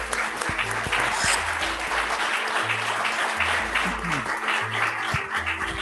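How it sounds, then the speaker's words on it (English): Audience applause for a conference panel, a steady broadband wash of clapping lasting the whole stretch at moderate loudness, with low hum and faint background tones underneath. "can we have some applause for our panel here today?"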